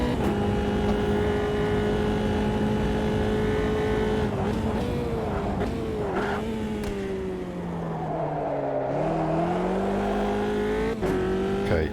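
A Formula 3 car in a racing sim game, its engine screaming at high revs throughout a lap with rising and falling pitch through gear changes and braking, loud and continuous with no talking.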